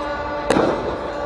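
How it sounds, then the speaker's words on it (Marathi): A single sharp firework or firecracker burst during a Ganpati immersion procession, one loud bang with a short rumbling tail over a steady crowd din. "तसतसं फटाक्यांची आतषबाजी आणि सोबतच जड अंतःकरणानं बाप्पाला निरोप दिला जातो"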